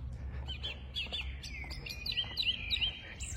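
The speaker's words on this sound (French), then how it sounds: "il a un beau chant cet oiseau." Songbird sings outdoors in clear, bright chirping phrases and short trills, repeated several times at moderate distance over low background rumble.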